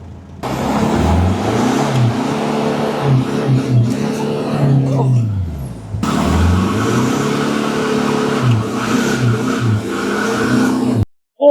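A car engine revs repeatedly in rising, falling bursts, loud and close, with a short pause midway before revving again.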